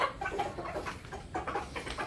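A young stag gamecock, kept in conditioning, gives a few soft clucks in quick short bursts, close but fairly quiet, with no voices.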